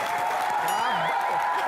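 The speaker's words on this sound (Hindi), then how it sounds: "एक बार जोरदार तालियां वरुण धवन के लिए" Studio audience applause on a TV comedy show for actor Varun Dhawan, a steady wash of clapping with tonal music or voices running over it.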